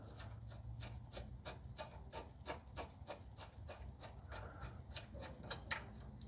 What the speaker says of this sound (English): now I'm in the process of removing the bottom one